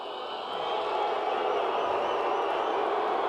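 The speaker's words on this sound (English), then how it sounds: "I don't know why they're booing" An arena crowd at a UFC fight, after Georges St-Pierre's win, sends up a loud, sustained roar of booing and jeering that swells slightly and holds steady without pause.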